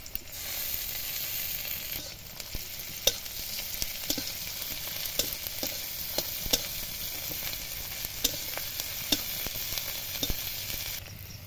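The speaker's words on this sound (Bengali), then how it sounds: "এবার দেব 1 চামচ থেতো করে রাখা রসুন" Crushed garlic sizzling and frying in a hot pan, a steady broadband hiss with scattered crackles and pops throughout, close and continuous with no talking.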